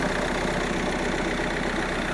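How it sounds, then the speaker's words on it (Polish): A 2.0 TDI diesel engine of an Audi A4 B8 quattro idles steadily nearby, a low, even rumble with a faint rhythmic knock and no voices. "Tak sprawdzasz, czy silnik dobrze pracuje. Akurat na diesla jest pięknie."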